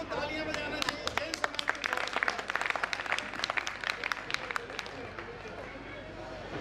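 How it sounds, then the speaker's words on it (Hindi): Applause from an audience at a Hindi patriotic kavi sammelan poetry gathering, a sustained mass of clapping with sharp individual claps standing out, steady over several seconds alongside crowd murmur and a voice. "पूरे समाज को तालियां बजाना चाहिए"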